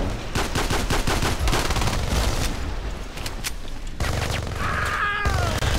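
XM-25 grenade launcher firing in a video game, a rapid run of loud sharp shots with booming impacts, dense and close, followed after a brief break by another burst with ringing tones.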